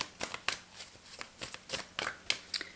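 Tarot cards being shuffled close up, a run of quick papery riffles and soft slaps in an uneven rhythm, with no talk over them.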